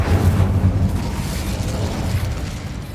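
The Incendio fire spell cast in the Hogwarts Legacy video game, a loud, rumbling burst of flame that swells at the start and then tapers into a steady roaring crackle.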